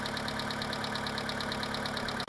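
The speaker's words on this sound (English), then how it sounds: "It's just got the lifter ticking." Mitsubishi 2.0 GDI 4G94 engine idling with a lifter tick, a steady rapid metallic ticking over an even low idle hum, close and continuous.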